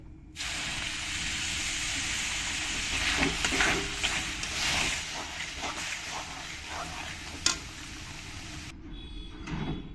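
Water poured into frying semolina in a hot pan bursts into a loud, steady hiss of sizzling steam that runs for several seconds with some crackling spikes, then cuts off abruptly near the end.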